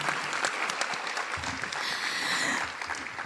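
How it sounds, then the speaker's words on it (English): Dense crowd applause at a technical college commencement ceremony in December 2024, steady and broad throughout, with no voices standing out above the clapping. "let's give them another round of applause"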